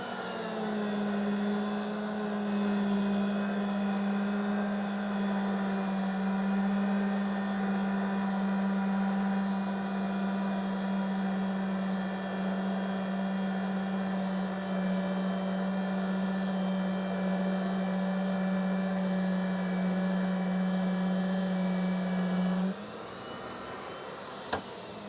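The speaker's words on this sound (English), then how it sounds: "And then we'll start making our threads." Pipe threading machine cutting threads on steel pipe during pipefitting work, a loud steady motor drone with a strong low hum that runs continuously for most of the span, then cuts off and drops to quieter room sound near the end.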